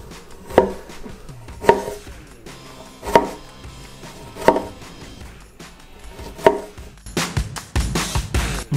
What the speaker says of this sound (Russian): И нарезаем саму ягоду на кружочки.